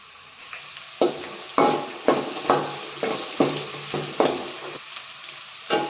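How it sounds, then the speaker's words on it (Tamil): Capsicum and egg with curry leaves sauté in a pan, about ten sharp spatula strokes scraping against the pan at a steady rhythm over a quiet background sizzle, with no voices. "இது கொஞ்சம் பொன்னிறமாக ஆகி வர அளவுக்கு வதக்கி எடுத்துக்கலாம்."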